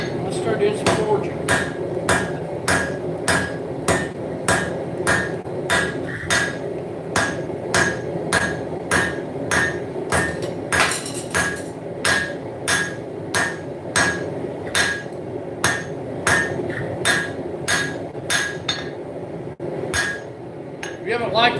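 Heated motorcycle chain is forged into Damascus steel under a hand hammer, with loud, evenly spaced ringing blows at about one per second that continue steadily for the whole stretch, with a brief faster flurry partway through.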